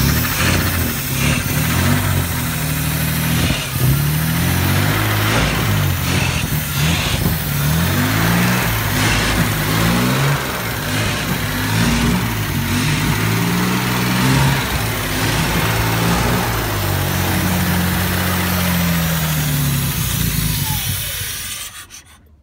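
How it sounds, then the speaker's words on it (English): A small gas motor running on old fuel, a steady close engine drone with slight fluctuations in pitch throughout, cutting off abruptly at the end. "you want to film the motor real quick?"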